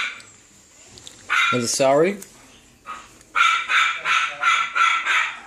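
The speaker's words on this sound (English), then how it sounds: "We have the Illuminati dogs that are barking" Several dogs bark in a house, a few sharp barks followed by a rapid run of repeated barking, fairly close and loud, while someone talks over them.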